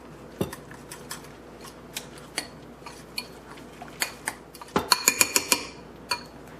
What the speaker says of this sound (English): Alright, we're going to mix this through each other